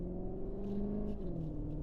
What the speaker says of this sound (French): quand on met le mode Cupra, ça change le caractère sonore de la machine.